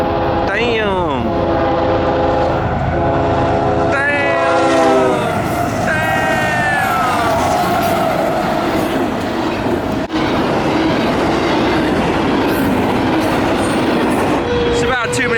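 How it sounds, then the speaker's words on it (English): A long freight train rolls past on the Great Plains, horn blasts sounding at the start, then a steady loud rumble and clatter of wagons continuing without letup. "the train is still going past"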